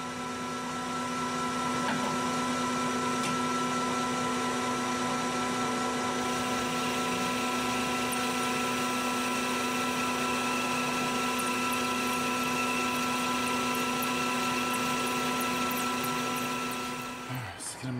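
A metal lathe takes a first-pass cut of about 38 thousandths on 7075 aluminum for ultralight chuck keys, giving a steady, continuous machining drone with a strong tonal hum that holds evenly for most of the clip before winding down at the end.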